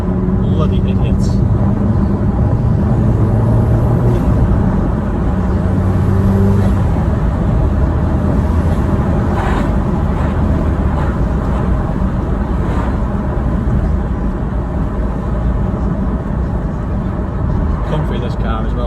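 From inside a 315 bhp Vauxhall Astra VXR on the move comes a loud, steady low engine and road rumble that fills the cabin throughout, with a voice talking over it.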